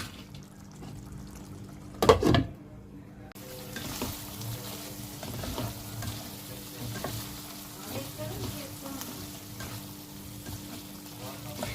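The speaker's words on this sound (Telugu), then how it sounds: "ఇప్పటి నుంచి మూత తీసి పెట్టి ఇలాగే వేయించుకోవాలి" Steady low sizzling of liver pieces frying uncovered in a pan as the water cooks off, with a brief louder clatter near the start, then a continuous soft crackle throughout.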